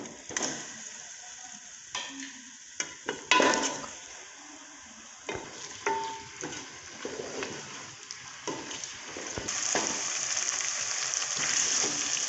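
Meat, chicken, sizzling and frying in a hot pan with browned onions, with a steady crackle and occasional stirring clatters, close by and fairly quiet.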